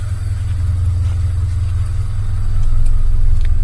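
A Honda Civic Genio engine idles low and steady at about 500 RPM, a loud, even rumble that holds throughout with no talking.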